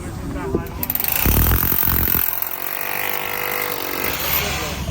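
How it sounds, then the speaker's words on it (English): A loud, rattling power drill hammers into a concrete wall in bursts, with mechanical grinding throughout and some talk mixed in. "Gotta drill your hole and then nail it in there."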